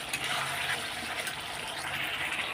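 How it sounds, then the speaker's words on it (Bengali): Water pours steadily into a pan of home-cooked paneer curry after the spiced base has been sautéed, a continuous close splashing gush with no pause. "এখন আমি জল দিয়ে দেবো"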